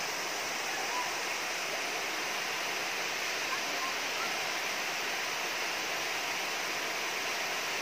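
Mamedias Falls roars steadily and loudly, a constant rushing of water with no breaks.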